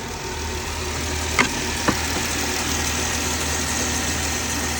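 Steady mid-pitched idle of a 2018 Dodge Ram 1500 Express with the 3.6L engine just after a cold start, close and constant, with two brief clicks early on and no talking.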